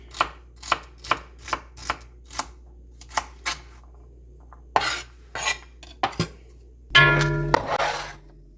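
Knife chopping vegetables on a cutting board for braised beef stew: a run of sharp, evenly spaced close-up chops, then a few scattered knocks, ending with a louder clatter of utensils or pans.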